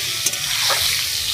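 Prawns fry in oil in a pan for a raw tomato curry, giving a steady, close, loud sizzle with a brief stirring clatter.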